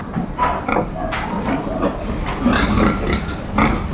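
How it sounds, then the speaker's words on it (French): Pigs grunt and snuffle inside a fly-infested pig-rearing barn in Charente, France, a dense, continuous stretch of low close-up grunts and shuffling with no talk. "on peut voir que les cochons là ils sont couverts de mouches"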